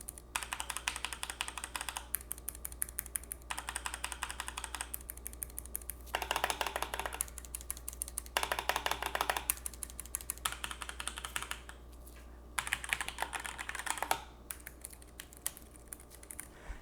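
Typing on a Keychron K3 tactile mechanical keyboard, with rapid bursts of soft, close key clicks in several runs separated by short pauses, quiet and steady over a low background hum.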